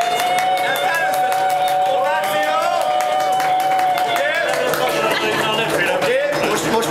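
A festival concert crowd at Fishing on Orfű 2010 stamps its feet in a dense, steady pattering beneath loud music and sung or spoken voices.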